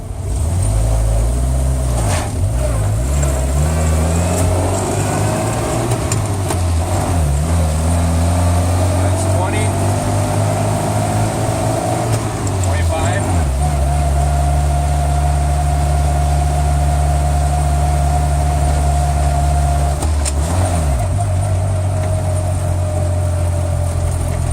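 A 1961 Land Rover Series II engine labours up a hill before cam adjustments, a loud steady low drone whose pitch rises and falls through gear changes, with a voice talking over it.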